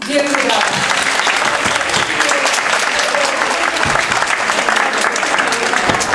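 Loud, dense applause fills a festival hall for an award-winning occupational therapy workshop at a festival for people with disabilities, steady and sustained throughout.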